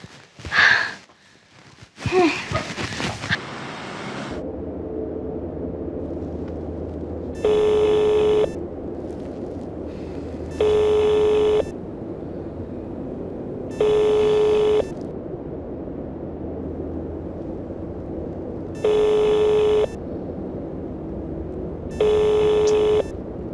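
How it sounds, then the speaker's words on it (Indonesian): An unanswered telephone call rings out as evenly spaced electronic ring bursts, five in a row at a steady pace, after some brief rustling and breathy noise at the start, with no talking. "Kok di telepon gak diangkat-angkat?"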